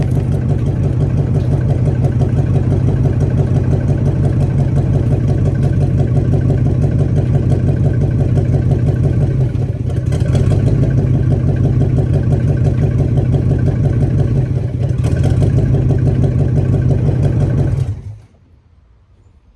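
A 1969 Caprice's 427 V8 with a 4-speed idles steadily with a deep rumble, its note shifting briefly twice as it is put in gear before it cuts off near the end.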